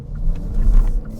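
Genesis G70 Shooting Brake driving on winding mountain roads, a steady low engine rumble with slight swelling under light throttle, close and continuous without speech.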